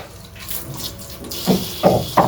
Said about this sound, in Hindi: अब पाइप से भरना पड़ेगा मेरे को पानी